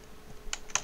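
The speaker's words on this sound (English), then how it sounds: "Then I type in" Two sharp key clicks on a computer keyboard while typing a web address, close and fairly quiet, separated by a short pause over faint room noise.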